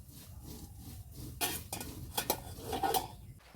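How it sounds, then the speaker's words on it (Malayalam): Mushrooms being chopped by hand for a mushroom curry at home, giving irregular close knife taps and light clinks against a quiet kitchen background, with no talking. "അപ്പോൾ ഞങ്ങൾ കൂണ് നുറുക്കാൻ തുടങ്ങിയിട്ടാ."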